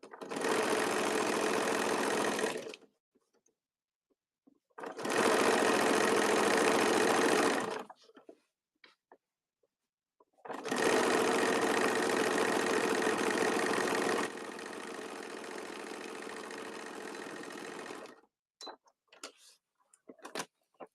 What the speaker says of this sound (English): when I sew this bag together, I'm just going to sew that ribbon on